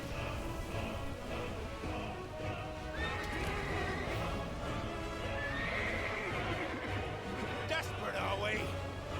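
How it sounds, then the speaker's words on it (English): A giant horse in Final Fantasy 16 lets out loud whinnies over the thud of galloping hooves, with combat noise around it and someone talking over the action. "Here comes the big horse"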